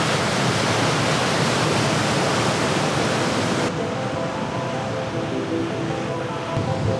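Upper Yosemite Falls during record snowmelt roars from the top of the fall, a loud, dense, unbroken rush of water that softens slightly partway through as the view shifts.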